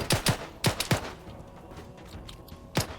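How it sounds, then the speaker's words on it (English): Gunfire in the video game Arma 3 cracks out in a few sharp shots, some in quick pairs, with a final shot after a quieter gap; it sounds fairly close and there is no talking. "Do you hear gunshots?"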